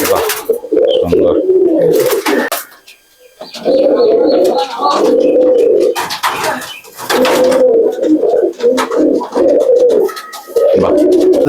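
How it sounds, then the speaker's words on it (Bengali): Several old-generation Madrasi pigeons cooing loudly and close in a loft, long rolling coos repeating in bursts with short pauses between, no one speaking. "এটাও আমার এই অরসাদ লাইনেরই বহু পুরোনো পায়রা"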